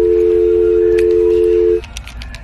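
A house telephone handset gives one loud, steady electronic tone for nearly two seconds, then it cuts off into quieter room noise with a few faint clicks.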